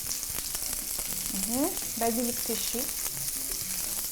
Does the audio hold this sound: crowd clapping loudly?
no